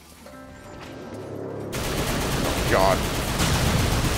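Rapid video game gunfire from a gun in Darksiders 2, a dense burst of loud shots starting partway in and continuing steadily under a brief spoken word.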